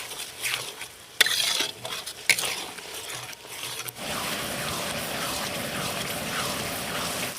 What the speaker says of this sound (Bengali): আদা বাটা দিয়ে আবার একটু কষিয়ে নেব